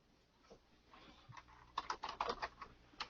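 Keys clacking on a computer keyboard as a command is typed, with sparse taps at first building into a quick, close burst of keystrokes and a final tap, no voices.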